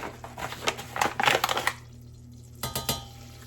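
Flour goes into melted butter in a pan for a cheese soufflé, with a quick clatter of utensil against the pan and a brief scrape, close and busy before a short pause and a few more knocks.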